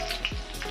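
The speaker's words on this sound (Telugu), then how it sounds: "వెల్లుల్లి, అది ఆవాలు ప్లస్ జీలకర్ర ఫ్రై అయిన తర్వాత" Mustard seeds, cumin and garlic crackle in hot oil for a brief moment, with faint sizzling and a few small pops at low volume.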